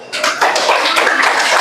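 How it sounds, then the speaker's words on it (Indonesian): Brief burst of classroom applause for a student group during a teaching session, a dense patter of hands clapping close by without talk. "Tepuk tangan buat kelompok ini"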